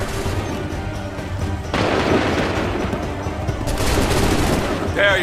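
Musket volley gunfire in the video game Assassin's Creed III during the Battle of Bunker Hill, loud crackling fusillades in waves with booming shots over a continuous battle din.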